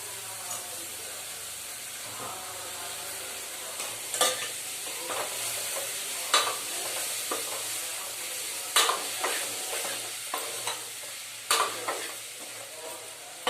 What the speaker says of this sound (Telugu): టమాటాలు వేసుకుంటున్నా.